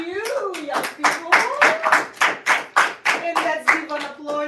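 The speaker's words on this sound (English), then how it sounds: "let's give an applaud to our guests for an insightful, amazing conversation" A small group claps for podcast guests, sharp hand claps grouped into about ten rhythmic bursts, close and fairly loud, with tones of talk or a voice running faintly beneath.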